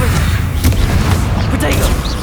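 Booming spell explosions in the Hogwarts Legacy video game, with several heavy blasts bursting over a dense, rumbling battle din in quick succession.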